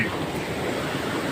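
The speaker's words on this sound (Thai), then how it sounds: "ฟังนี่น้ำไหลเขา" Flowing water gives a steady, close rushing hiss with no pauses and no other sounds over it.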